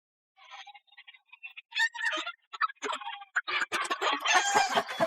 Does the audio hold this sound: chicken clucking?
yes